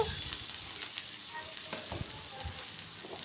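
Chopped ginger and green chili fry in mustard oil, a soft, steady sizzle with faint crackles and light stirring taps, fairly quiet and close throughout.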